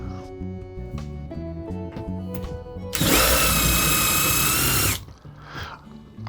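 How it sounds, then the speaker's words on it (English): A power drill with a 1/4-inch bit whines loudly for about two seconds as it bores the head off a metal scaffold rivet, set between quieter stretches of steady background tone. "I'm using a 1/4-inch drill bit to take the top of the rivet off."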